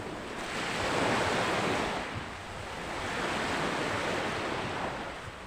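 Waves wash onto a shore in broad, rolling swells, with wind buffeting the microphone and no voices.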